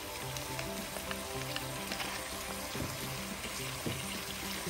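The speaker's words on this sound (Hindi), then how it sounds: "दो से 3 मिनट हम गोश्त को इसमें फ्राई करेंगे" Mutton sizzles quietly in a pot with garlic-ginger paste for a turnip mutton curry, a steady, faint frying hiss with small crackles throughout.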